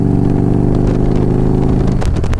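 A 20-year-old Harley-Davidson motorcycle engine pulling hard under acceleration, its loud steady drone close by, with a shift in pitch and a few mechanical clicks near the end.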